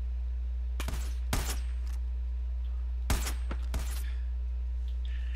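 Gunfire aimed at a heavy gunner enemy in Far Cry 5 comes in four sharp bursts, two close together early and two more a couple of seconds later, over a low steady hum.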